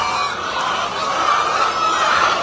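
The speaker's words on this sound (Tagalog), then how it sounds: "Manok na nangingitlog." Egg-laying chickens cluck in a dense, continuous flock chorus that stays fairly loud and even throughout, with no talk.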